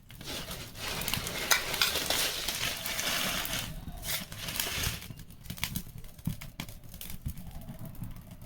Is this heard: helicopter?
no